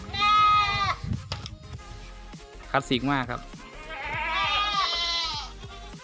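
Several goats bleat loudly and close by on a goat farm in Phanom Dong Rak, Surin, with wavering, quavering cries at the start, middle and end, and someone speaking briefly between them.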